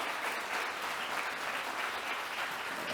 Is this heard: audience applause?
yes